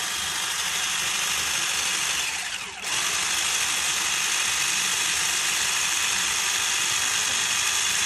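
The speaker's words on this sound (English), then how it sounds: "If you're not using a hand mixer that is electric, it's going to take a while, but it's doable." An electric hand mixer beats egg whites with a steady, loud, bright whirring drone that runs continuously with only a brief dip partway through.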